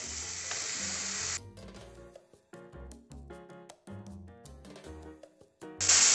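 Soy sauce poured into potato manchurian frying in a pan makes a loud hissing sizzle that drops away, followed by a run of clinking, tapping stirring sounds and a fresh burst of sizzle at the end.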